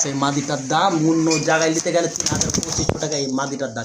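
Pigeons coo at a market stall that sells domestic and foreign fancy pigeons. Someone talks over the birds throughout, and a few sharp clicks and clatters come near the end.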